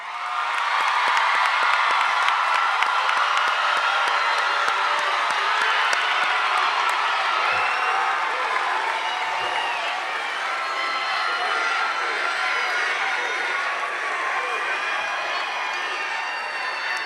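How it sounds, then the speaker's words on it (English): Loud, sustained applause fills a large hall at a high school graduation ceremony, with dense clapping mixed with crowd cheers and whoops that hold steady throughout. "let's give them one more round of applause"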